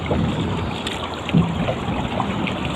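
Strong wind buffets the microphone on a boat at sea, over a rushing, churning water background, a continuous roar with a few louder gusts.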